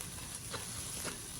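Sesame seeds dry-toasting in a pan make a faint, steady crackling hiss, with a couple of soft stirring scrapes and no talking.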